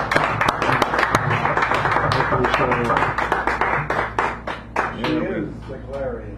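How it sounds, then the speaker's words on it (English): At a poetry hour in a San Francisco café, a small audience claps for a poet with a burst of close, uneven hand claps that thins out, while voices talk over and after it. "Give her a nice round of applause."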